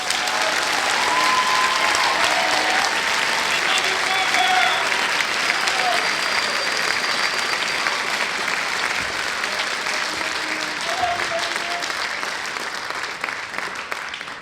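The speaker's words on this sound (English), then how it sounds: "could you please show your support by giving them one more round of applause?" An audience in a concert hall gives a long, sustained round of applause for a district honor symphonic band, a dense, even wash of clapping that tapers slightly near the end.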